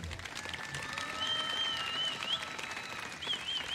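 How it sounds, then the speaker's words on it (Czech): Audience applause at the Strážnice folk festival finale after a verbuňk dancer's performance, soft, dense clapping from a crowd heard at a distance, with sustained musical tones ringing over it. "můžete mu zatleskat"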